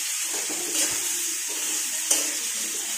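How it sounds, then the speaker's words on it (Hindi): Sliced onions sizzling and frying in a pan with vegetables during home cooking, a steady close hiss with a couple of light stirring scrapes, no talk. "फिर प्याज डालकर भूनेंगे।"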